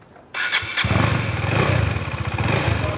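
A 2018 KTM Duke 250 motorcycle starts up after a short click, then settles into a close, loud, throbbing idle with a fast pulsing exhaust beat.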